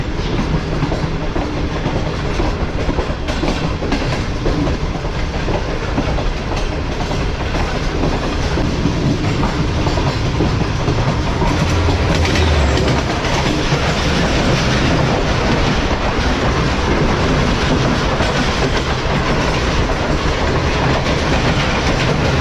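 The Tezgam passenger train on Pakistan Railways passes close by with a loud, continuous rumble and a rhythmic clickety-clack of wheels over rail joints that lasts throughout.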